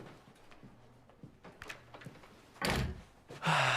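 A door shuts in a school setting, landing as a couple of dull thuds and a heavier closing bang over quiet room ambience.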